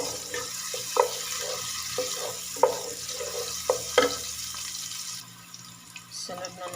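Onions frying in a pan for a fish-head curry, a steady close sizzle with several sharp clinks of a utensil stirring against the pan, dropping quieter near the end.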